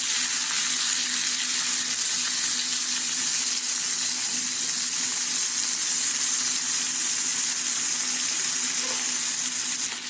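Vegetables seasoned with salt sizzle in a hot pan, a loud, steady, dense hiss of frying oil that carries on without a break, close up and with no talking.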